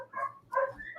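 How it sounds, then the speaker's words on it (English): A dog gives two short, close barks in quick succession, with a faint whine trailing after. "Can somebody shut my dog up?"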